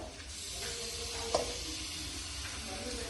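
Squid frying in coconut oil in a pan, giving a steady, close hissing sizzle throughout with one brief clink of a utensil partway in.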